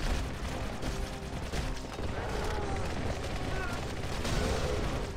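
Sniper rifle shots in a modded Halo: The Master Chief Collection mission mix into dense, continuous combat noise, with repeated gunfire and explosions clattering throughout at a steady, loud level.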